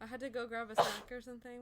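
A single short sneeze bursts out between stretches of conversation, loud and close, with people talking before and after it.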